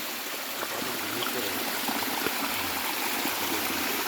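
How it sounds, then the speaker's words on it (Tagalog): Strong, steady rush of flowing stream water through farm fields, loud and close, with continuous broadband splashing and no voices. "Lakas ng tubig."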